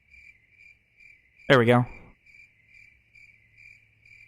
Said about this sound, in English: Just gonna listen to some crickets.